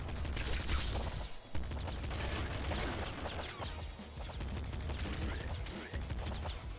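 Machine gun fire in the top-down shooter Nuclear Throne, rapid bursts of dense, crackling shots repeating steadily throughout, loud and close, with game sound effects mixed in.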